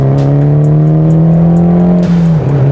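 A loud, close engine pulls hard in a stanced Mitsubishi Evo, its pitch climbing steadily as the car accelerates, with a brief dip near the end.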